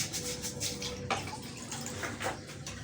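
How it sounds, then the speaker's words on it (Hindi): Water poured into a pan of cooking minced meat and potatoes, a steady splashing, bubbling pour heard close up and alone, with a slight shift in tone partway through. "मैं थोड़ा सा और डालूँगी पानी"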